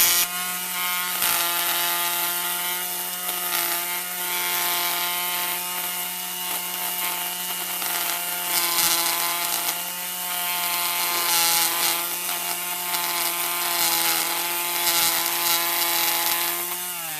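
Greenworks 40-volt cordless string trimmer turned into an edger, running with a steady, loud, close motor whine and faint scraping against ground, with no talking.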